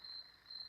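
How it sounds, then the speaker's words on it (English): A single cricket chirps indoors in a shop, a thin, faint, steady trill in two stretches separated by a short gap, with no voices. "there's one freaking cricket in here that there's a cash reward if you can show up here and kill that damn thing, because it does not shut the hell up"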